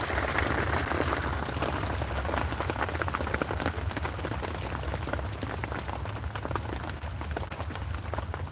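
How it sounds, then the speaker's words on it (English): Rain falls outside a roadside shelter in North Carolina, a dense, steady patter of drops on nearby surfaces that runs without a break at moderate volume. "It's raining, so. It's a wee bit wet outside"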